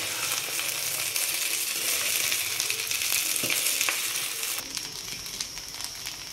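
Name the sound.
stirring egg fried rice frying in a pan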